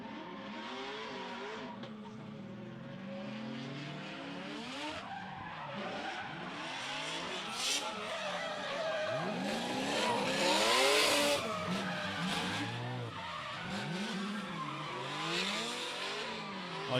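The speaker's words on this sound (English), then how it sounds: "I do love how crisply that thing just comes on boost and starts screaming and hazing those good ride tyres." Rotary-engined drift car at a competition, engine screaming on boost while tyres screech and skid continuously, loud and close with rising and falling revs and no voices over it.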